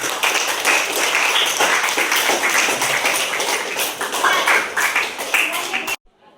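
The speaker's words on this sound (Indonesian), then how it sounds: "Beri aplaus untuk kelompok 3" Applause for a student discussion group during a classroom teaching practice session, a steady crowd of clapping hands filling about six seconds before cutting off abruptly.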